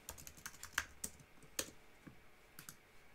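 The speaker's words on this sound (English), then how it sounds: "If I was to type in a name," Name typed on a computer keyboard, a quick irregular run of light clicking keystrokes, close but quiet, with no voices.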